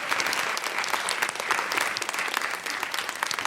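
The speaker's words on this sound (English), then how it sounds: "Big round of applause for Anna." A live comedy podcast audience claps steadily and enthusiastically for a few seconds, a dense wash of applause with no talking.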